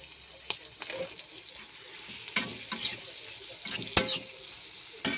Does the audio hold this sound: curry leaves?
yes